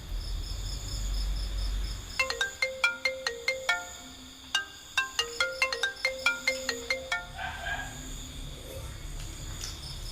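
A phone ringtone plays a bright, repeating electronic melody of rapid plinking notes in two bursts, then stops; no one speaks over it, with a faint background hum throughout.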